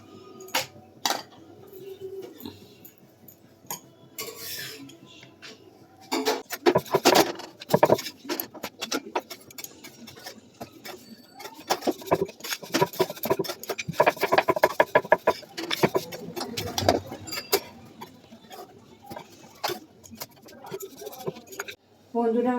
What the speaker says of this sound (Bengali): মা বেলছে, আমি ভাজবো।